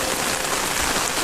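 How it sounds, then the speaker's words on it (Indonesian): Steady rain falls at night, a dense, even hiss of drops hitting surfaces all around, with no voices over it. "Ini suasana sedang hujan."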